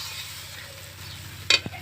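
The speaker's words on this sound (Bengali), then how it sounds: "শুকনো লঙ্কা বাটা গুঁড়ো, 1 চামচ জিরে গুঁড়ো, হালকা জালে খুব ভালো করে কষিয়ে নিতে হবে।" Ground dried chilli and cumin spices sautéing in oil over low heat, a soft steady sizzle with gentle stirring and a brief sharp scrape of the spoon near the end.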